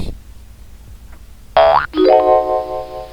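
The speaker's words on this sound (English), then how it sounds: "So if you hear that sound, then means that you're logged in" A loud, close boing-like chime of an MT5 trading platform login notification sounds alone: a quick rising tone, a tiny break, then a sustained bright tone that fades out.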